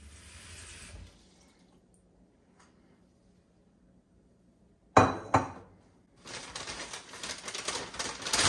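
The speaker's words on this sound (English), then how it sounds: "I'm gonna get all these filled with water and then soak all of them" Water splashes into containers to soak ranunculus and anemone corms, a brief run of filling at first, then a quiet gap, followed by sharp clunks and a louder, steady gush of pouring water.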